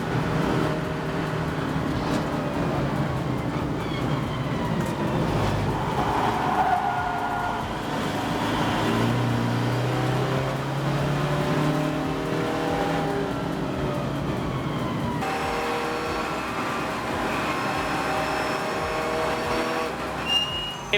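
Race cars, a BMW Compact leading a Cupra, lap the Donington GP circuit in a Roadsports final; steady engine drone with rising and falling gear tones, continuous and moderately distant, occasional pass-by swells.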